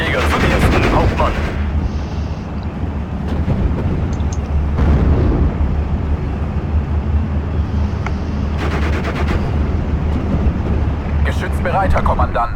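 Heavy gunfire in the WWII strategy game Steel Division after a fire order, loud bursts and rolling volleys with booming impacts that continue densely throughout, interrupted by brief radio-style voice commands.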